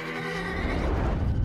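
A wild horse from the Virginia Range gives a single loud, close neigh, a rising whinny that breaks into a rough, shuddering tail.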